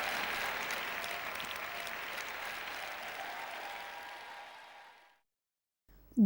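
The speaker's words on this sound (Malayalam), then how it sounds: "ഒരാൾ കൈയടിക്കുന്നു" Clapping rings out as a steady, dense patter that gradually fades to silence, followed by a brief sharp sound at the very end.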